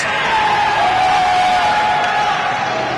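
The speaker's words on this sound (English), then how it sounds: "the crowd really into the champion here" A large wrestling crowd cheers and roars steadily, loud and sustained, with a faint whistle-like tone drifting above the noise.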